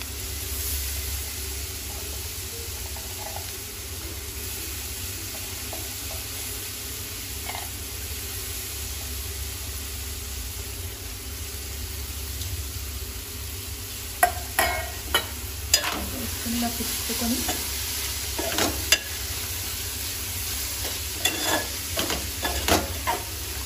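Soaked chana dal frying with cabbage in a pan makes a steady, even sizzle throughout, nearby. Later a spatula scrapes and clacks against the pan in irregular strokes.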